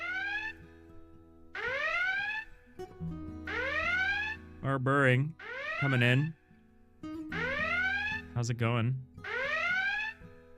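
Stream raid alert alarms repeat as rising, siren-like electronic sweeps in a steady pattern, with warbling tones between them and a voice talking briefly in the gaps.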